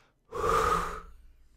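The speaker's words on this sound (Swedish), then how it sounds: "Jag fortsätter att andas in och sen ut" A single deep breath in and out during a spirometry demonstration of lung capacity, close and clear, a strong airy rush that swells and then tapers into a softer exhale, with no talking.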